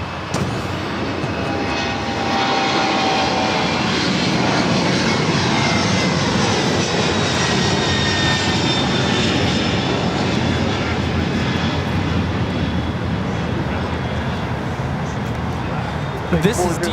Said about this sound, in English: operated by ABX Air 403, taking off to Cincinnati on a 767-300 converted freighter.